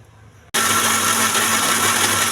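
Kitchen mixer grinder switching on abruptly and whirring at a steady high pitch as it grinds mint, coriander, roasted gram, dried red chillies, cumin, salt and tomato into chutney, loud and close with no talk.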